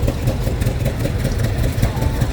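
A 1964 model 550 tractor runs in a summer show parade, its engine chugging at a steady idle-like rhythm in the background while someone talks over a public address system.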